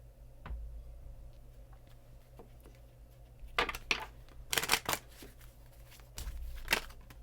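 Tarot cards are shuffled by hand in a quiet room, giving several short bursts of crisp riffling and flicking with brief pauses between them, close and moderately loud.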